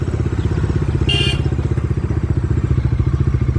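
Motorcycle engine putters steadily in a fast, even rhythm close by while riding along a narrow single-lane road, with a brief clatter partway through and no talk.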